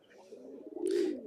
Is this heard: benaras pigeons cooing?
yes